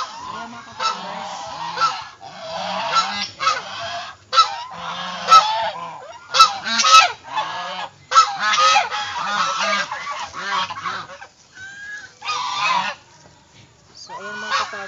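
A flock of geese honks loudly and continuously, overlapping calls rising and falling in a noisy chorus close by.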